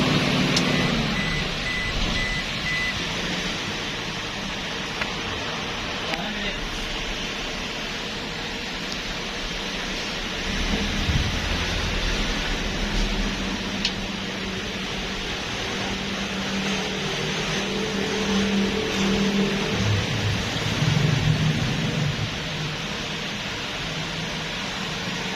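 A Toyota Hilux engine idles at about 1500 RPM with a misfire while its check engine light blinks. A steady, rough low hum sits under broad hiss for the whole stretch, with a slight surge partway through.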